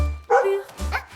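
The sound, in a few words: puppy barking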